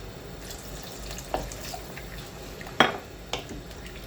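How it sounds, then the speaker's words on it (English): Water is tipped into a simmering pot of potato dumpling curry: a low bubbling background broken by a few short splashy bursts, the loudest one near the middle, close to the microphone. "I'm going to add a bit more water to that"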